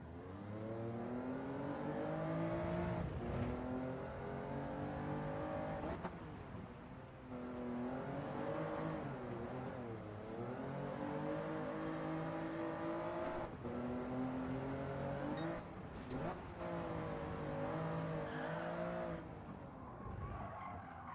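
A race car in Gran Turismo 7 runs a time trial, engine revving up and down in repeated cycles through gear changes, with tyres skidding and squealing into corners, loud and continuous for the whole stretch.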